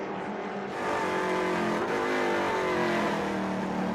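On-board roar of a Trans Am TA2 race car at speed on the Atlanta SpeedTour track: a loud, continuous engine note that rises and shifts as it works through the gears, with no talking.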